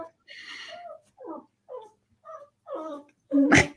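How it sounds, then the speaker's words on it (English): A pet dog gives a series of short, whiny whimpering vocalizations close by, separated by brief pauses, ending in a louder, harsher burst. "My dog."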